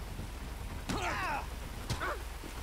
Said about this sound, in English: Ooh, started raining. Oh, started so, the storm.